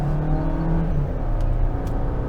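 A 2023 Jeep Compass with a 2-liter turbo engine accelerates, giving a steady low cabin hum and a rising engine drone heard from inside the car.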